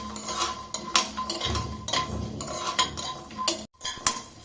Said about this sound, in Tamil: கொஞ்சம் முந்திரி பருப்பு போட்டுக்குவோம்